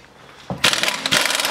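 A pneumatic air tool rattles as it breaks a part loose on a 2010-2015 SS Camaro engine during a supercharger install. A thud is followed by a loud, close, buzzing burst of air-powered hammering.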